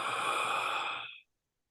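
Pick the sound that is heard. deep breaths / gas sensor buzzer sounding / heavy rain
deep breaths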